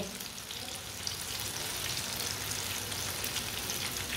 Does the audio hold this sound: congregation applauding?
no